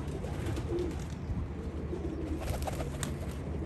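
Soft, continuous cooing from a flock of Basrawi pigeons on a rooftop, low and rolling with faint chirps and a brief flutter of wings, heard at a moderate distance with no talking.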